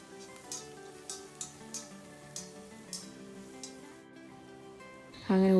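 Chopped capsicum in a pan gives a soft, steady sizzle, with light rhythmic scrapes and taps from stirring about every half second, then a louder burst of noise at the end.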